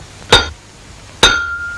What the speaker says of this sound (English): something as simple as hammering a nail into a wall